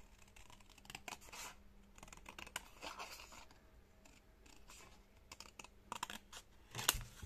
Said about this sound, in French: Et maintenant, on va couper cette partie-là.